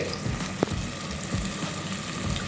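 Green chillies fry in a pan for vegetable khichdi, a continuous close sizzle and crackle with a few soft pops. No one speaks.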